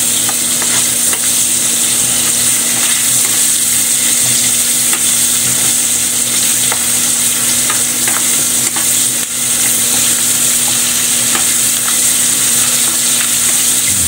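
Squid adobo base sautéing in a pan before tomatoes are added, a loud, continuous sizzle and crackle of hot oil with a constant hum underneath, steady throughout.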